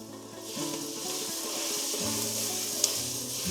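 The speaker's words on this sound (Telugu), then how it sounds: "ఇప్పుడు సన్నగా తరుక్కున్న టొమాటో ముక్కలు వేసుకొని బాగా మిక్స్ చేసుకోండి." Finely chopped tomatoes mixed into a hot pan for a black chickpea curry, a steady close sizzle with soft stirring strokes and a faint low tonal hum underneath.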